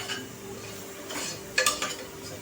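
Spices for kaleji masala are sautéed in a pot, a soft sizzle under several metallic scrapes and clinks of a spoon against the pot, one sharper clatter midway, close and with no talk.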